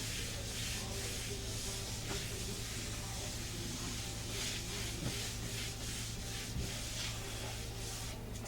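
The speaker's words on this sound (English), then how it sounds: "Let me wipe this off a little bit." A candle holder being wiped off by hand, soft continuous rubbing and hissy scrubbing strokes close by, fairly quiet, with a few faint taps.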